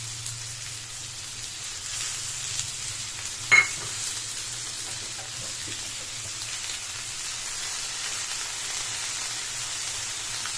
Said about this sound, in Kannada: ಹಾಕೊಂಡು ಲೋ ಫ್ಲೇಮಲ್ಲಿ ಇಟ್ಕೊಂಡು ಫ್ರೈ ಮಾಡ್ಕೊಳ್ಳಿ